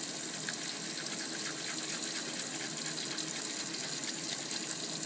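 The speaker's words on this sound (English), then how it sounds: "Every time you push it through, you want to rinse off all the gunk off of there" Water runs steadily from a tap over a clarinet or saxophone mouthpiece during rinsing, a constant loud, close gushing hiss with no pauses or voices.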